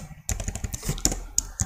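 Someone types code on a computer keyboard, a quick run of close, sharp key clicks in an uneven rhythm with brief pauses between strokes.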